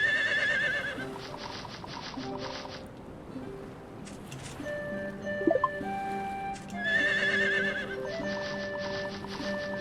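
Game horse in Harvest Moon The Winds of Anthos gives two loud, rising whinnies, one at the start and one near the end, over steady tonal background music with light clopping in between.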